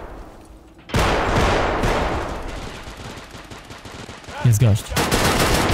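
A pump shotgun fires at close range in the tactical shooter Escape from Tarkov Arena, loud blasts landing amid a sustained burst of gunfire, with someone talking over the shooting.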